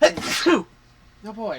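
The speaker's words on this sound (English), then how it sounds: "I'm gonna sneeze." A person sneezes once during a tabletop horror game session, a short burst followed after a pause by a voice reacting; talk surrounds the sneeze.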